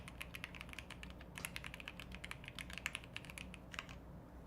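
Keys clatter on a computer keyboard in quick, uneven runs of typing and backspacing. The clicks are close but faint, with no voices over them.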